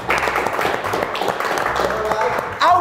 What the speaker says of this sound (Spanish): Un aplauso para Giovanni que dejó la ahí